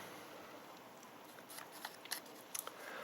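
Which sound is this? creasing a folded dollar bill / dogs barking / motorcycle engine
creasing a folded dollar bill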